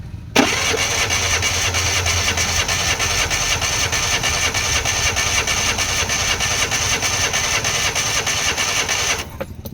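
A Suzuki DA64 with a K6A engine that misfires badly starts up and runs at a rough, uneven, pulsing idle for several seconds before shutting off.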